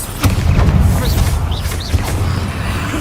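Bombarda spell explosion in Hogwarts Legacy, a booming blast with low rumbling body and crackling debris, loud and close, followed by softer whooshing spell effects.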